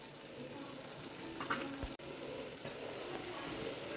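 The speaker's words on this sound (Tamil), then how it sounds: "குழம்பு நல்லா கொதிஞ்சிருச்சு" Sukku milagu kuzhambu, a Tamil dry ginger and pepper curry, simmering in a pot with the oil separating, a faint steady bubbling sizzle throughout with one brief knock partway through.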